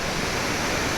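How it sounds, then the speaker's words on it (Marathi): Marleshwar waterfall gushes in a steady, full roar of rushing water, close and continuous, with no voices. "मार्लेश्वरचा धबधबा"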